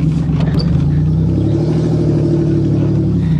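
Engine of an eltaurimino convertible car running steadily during a test drive, a continuous low rumble with a slight rev near the start, fairly loud and close, with no talking.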